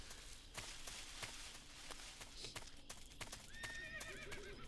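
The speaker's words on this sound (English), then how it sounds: "Was that a horse?" A horse in the Metal Gear Solid 3 video game clip-clops in an even rhythm, then lets out a loud quavering whinny near the end.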